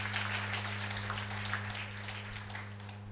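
A room full of people applauds at a centenary celebration in a convent chapel, producing a steady, even wash of clapping over a low electrical hum for the whole stretch.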